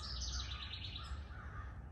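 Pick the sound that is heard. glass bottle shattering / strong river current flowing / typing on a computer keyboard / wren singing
wren singing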